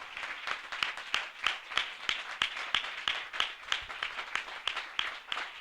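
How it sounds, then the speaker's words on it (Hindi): A church congregation claps in welcome: distinct, evenly spaced sharp claps ring out over a softer bed of applause, steady and moderately distant throughout. "हम जोरदार तालियों से उनका स्वागत करें।"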